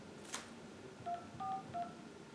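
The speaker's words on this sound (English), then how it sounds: "please enter the following number on your phone's touchtone pad" Three touch-tone keypad dialing tones on a phone, short steady dual-pitch beeps in quick succession after a faint click, fairly quiet and heard alone without talk.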